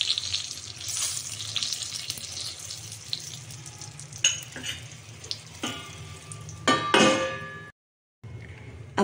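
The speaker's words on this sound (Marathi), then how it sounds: "मिरची बनवताना थोडं तेल काढलं होतं, तर आता आपण साईडला थोडंसं टाकून घेऊ." Stuffed green chillies frying in a pan, with oil poured around the sides, give a steady close sizzle and crackle that swells briefly before a short gap of silence.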